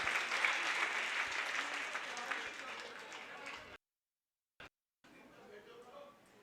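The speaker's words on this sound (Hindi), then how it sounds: "ये एक बार इनके लिए जोरदार तालियां" An audience at a religious gathering claps loudly for about four seconds, a dense, steady burst of applause that cuts off abruptly, followed by a short silence and then quiet room noise.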